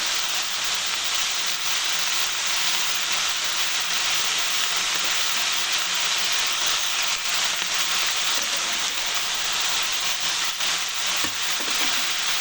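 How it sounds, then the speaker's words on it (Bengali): Potatoes and beans fry gently in a pan over low heat, giving a steady, even sizzle and hiss that holds throughout with no pauses. "এবার এটাকে ভাজি করবো, আস্তে আস্তে অল্প আঁচে ভাজি করবো"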